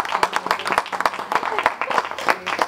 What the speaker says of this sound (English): It's like give them a loud applause.